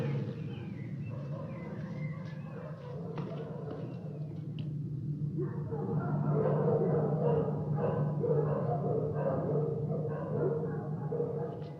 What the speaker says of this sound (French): Ces chiens. Il y en a combien?